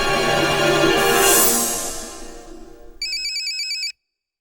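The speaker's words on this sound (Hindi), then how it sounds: "अरे मुख्यमंत्री जी का फोन।" An incoming call rings on a telephone in a Hindi comedy film: after background music fades out, a short burst of bright electronic ringtone pulses sounds loud and close for about a second.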